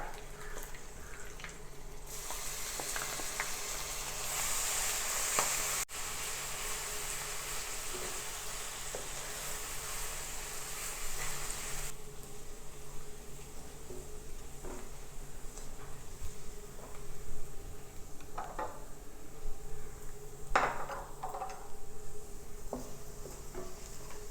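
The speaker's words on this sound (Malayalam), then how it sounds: "ഇഞ്ചി വെളുത്തുള്ളി പച്ചമുളക് ചതച്ചതാണ് ഇതിടുന്നുണ്ട് കേട്ടോ" Crushed ginger, garlic and green chilli fry in a pan for a duck roast, giving a steady, close sizzling hiss that runs throughout with a few faint clinks and scrapes.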